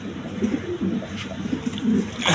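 Pigeons of various breeds, including Rajgolla, coo in a busy market, with low warbling coos overlapping continuously against a noisy background and a brief rustle near the end.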